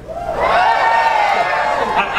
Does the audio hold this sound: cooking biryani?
no